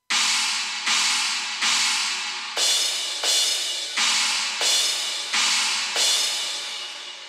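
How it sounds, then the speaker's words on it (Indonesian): A China cymbal sample is played on the upper zone of a Donner dual-zone electronic drum pad, about nine trashy, bright hits struck at a steady pace, each one fading slightly before the next, with no voices. "Terus di atasnya ini gue bisa isi suara simbal China."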